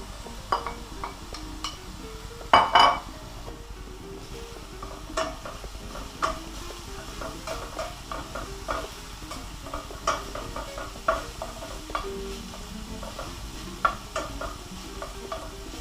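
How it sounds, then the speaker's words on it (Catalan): Cod and finely chopped green pepper cook gently in a pan at low heat, with a steady sizzle under repeated scrapes and clinks of a utensil stirring against the pan, close by and with no talk. "Estem cuinant una mica, diguéssim que a baixa temperatura el bacallà"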